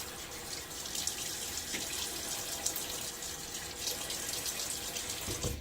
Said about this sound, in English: I'm just going to run it through some water here